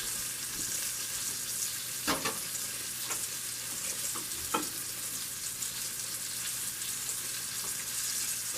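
Butter melts in a pot for an old-fashioned pot roast, giving a constant close fizzing sizzle with a few sharp utensil clicks scattered through it, and no talking.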